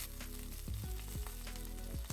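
Thyme and garlic cloves sizzle in a pan alongside seared eggplant, a close crackling fry with a few scraping stirs and a faint hum underneath.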